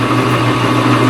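A cutoff tool held in a clamp grinds through flange nuts with a steady, loud, continuous whine and no break.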